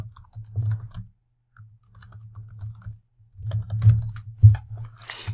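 Keys on a computer keyboard are typed in short, soft bursts as a notebook title is entered, with dull taps separated by brief pauses in a quiet room.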